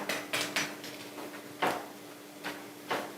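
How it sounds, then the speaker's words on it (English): A cheese quesadilla flipped in a frying pan: several close metallic knocks and scrapes of a utensil against the pan, spaced irregularly over a low sizzling hiss. "We're gonna give it a little flip."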